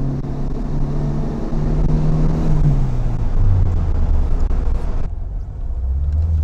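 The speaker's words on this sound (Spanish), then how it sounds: "Se acelera muy bien, le gusta revolucionar el coche." Renault R8 TS, a 55-year-old sports car, drones from inside the cabin as the engine pulls and the pitch rises and falls through the gears, a steady loud rumble with no talking.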